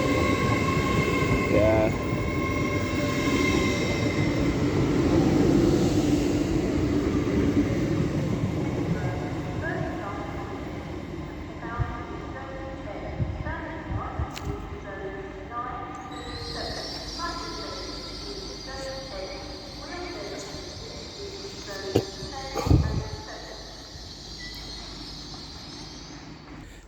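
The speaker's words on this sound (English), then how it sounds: "Now coming in is a singular class 185 for Transpennine Express from Manchester Victoria" A class 185 TransPennine Express train from Manchester Victoria pulls into York station on the East Coast Main Line. Its engine drones and its wheels rumble and clatter close by, with a high squeal later on. Voices talk over the sound.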